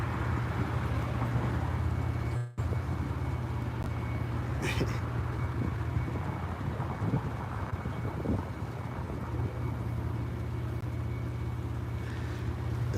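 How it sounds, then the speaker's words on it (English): Heavy truck and cars rumbling along a street, a steady loud low-pitched traffic drone throughout with wind buffeting the microphone, no talk heard. "And this loud truck over here."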